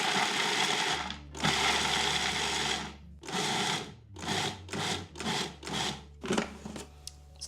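A food processor pulsing walnuts for baklava filling, a long whir followed by a series of short, choppy bursts that grow quicker toward the end, loud and close with no talk.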